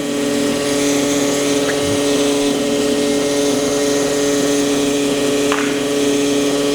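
A Bardahl ATF360 machine fills automatic gearbox oil into a BMW X3 xDrive with the engine off, giving a steady, unchanging mechanical hum and drone that runs throughout at moderate level, with no talk.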